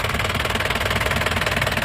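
A 2003 Isuzu Panther diesel engine runs at a steady idle, loud and close with an even, rapid knocking clatter and no talk over it.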